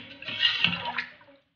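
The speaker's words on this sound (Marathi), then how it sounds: "हे पाणी यामध्ये घालूया" Water poured into crisp hollow puris filled with potato masala while making homemade pani puri, a short splashing trickle that rises and fades over about a second and a half, heard alone.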